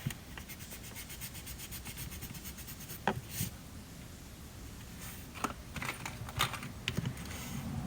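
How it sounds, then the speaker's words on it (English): A Grumpy Cloud eraser rubs back and forth on paper, a soft, faint scratchy scrubbing with a few sharper scuffs along the way. "Now let's try the Grumpy Cloud eraser."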